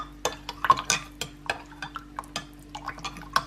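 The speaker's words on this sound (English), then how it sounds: "We're going to mix this together quite well." A yeast mixture stirred in a bowl, with sharp, irregular clinks and scrapes of a utensil against the bowl over a quiet background hum.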